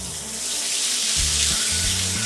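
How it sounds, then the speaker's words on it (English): Peas and corn hitting a hot pan in a home burrito preparation, giving a steady, loud, hissing sizzle that runs unbroken throughout, with low clunks of the pan underneath. "Now it's time to add the mix of peas and corn."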